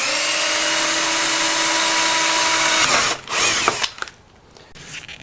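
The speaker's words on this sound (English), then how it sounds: "I'm first going to drill a hole here for the electrical cord to go in" A power drill bores a 5/16 inch hole through plastic, a loud steady whine for about three seconds, then the motor cuts out and a few handling clicks and rattles follow.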